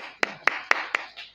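An audience clapping for a student in a banking law lecture, four sparse, evenly spaced claps over about a second, close and modest, with no talk over them.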